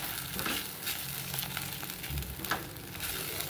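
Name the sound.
masala sautéing in ghee and butter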